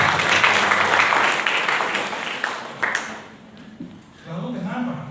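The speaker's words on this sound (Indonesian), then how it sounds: "Tepuk tangan buat Bapak kita" Loud, dense applause from a church congregation for about three seconds, then it fades out and quieter talking follows.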